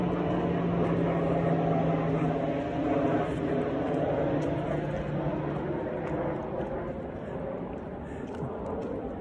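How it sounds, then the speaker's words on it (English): An airplane passes overhead outdoors with a steady, broad engine roar that holds throughout and fades slightly toward the end, heard from a distance with no talk. "I'm gonna wait for that airplane."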